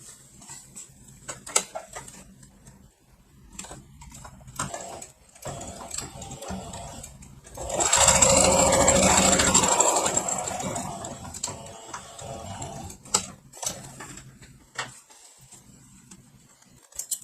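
A sewing machine stitches fabric scraps together, running in one loud continuous whirring burst of about two seconds midway, with quieter handling clicks and taps before and after.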